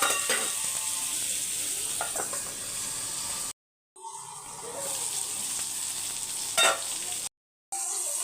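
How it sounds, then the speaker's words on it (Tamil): Fish curry masala simmers and fries on a low flame with a steady soft sizzle, broken by two short silent gaps and an occasional stir, close and moderately quiet. "அப்படியே ஒரு அஞ்சு நிமிஷம் சிம்மில் வச்சிடலாம்"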